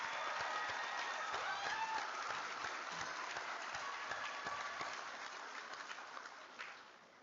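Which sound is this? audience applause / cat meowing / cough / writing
audience applause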